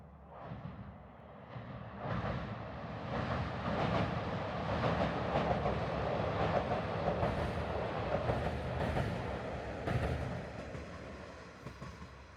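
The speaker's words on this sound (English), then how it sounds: "managed to capture a train going the other way" A train rolls past on the rails near a rural railway station in Okayama, Japan, its rumble swelling and holding with rhythmic clacking before easing off slightly, heard from a moderate distance.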